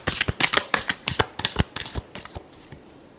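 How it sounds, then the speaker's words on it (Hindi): A deck of tarot cards is shuffled by hand in a quick series of crisp, riffling slaps and flutters close up, about a dozen bursts over three seconds that fade out at the end. "last shuffle,"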